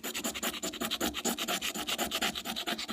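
A magnesium fire-starting block is scraped into shavings in quick, even rasping strokes, about seven per second, close and loud with no talking.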